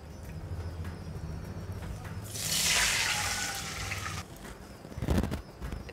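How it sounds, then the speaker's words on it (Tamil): Water pouring into a pan while making tender coconut halwa, a rushing splash of about two seconds in the middle, with quieter kitchen sounds before and a brief clatter after. "ஸோ 1 கப்பு தண்ணி விடலாம்."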